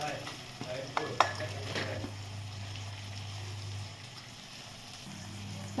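Stuffed ridge gourds go into oil in a pan with a few clinks and splashes, then fry with a soft, steady sizzle and a low hum underneath.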